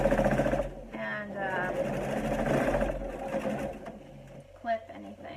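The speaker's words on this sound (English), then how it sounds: "if you use your serger, you don't really have to go back in" A serger runs in short bursts, stitching fabric with a fast mechanical whir under ongoing talk, stopping and restarting a few times close by.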